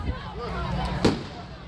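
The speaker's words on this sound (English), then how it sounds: "There they go. Love the fireworks." Carnival fireworks on the final night give one clear pop among faint distant rumbles, heard under background voices and crowd noise.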